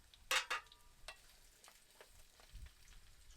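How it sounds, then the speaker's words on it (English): Chopped carrot and white onion hit a hot pan on a Trangia 27 camping stove with a couple of sharp sizzling bursts, then settle into faint crackling and scattered light stirring taps nearby. "So we'll just saute this,"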